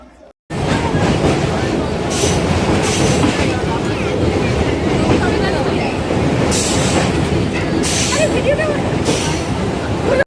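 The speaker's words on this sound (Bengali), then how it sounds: "আমাদের ট্রেনের দেখা মিলেছে অলরেডি। ট্রেন কিন্তু প্ল্যাটফর্মে ঢুকে গেছে।" A passenger train on the Kolkata–Digha line pulls into a station platform with a loud, continuous rumble and clatter of wheels, brief hissing bursts and faint background voices.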